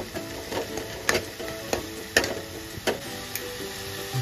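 Onions frying in a pan with ginger and garam masala paste for pav bhaji, a soft steady sizzle under repeated sharp clacks and taps of a utensil against the pan, with no talk.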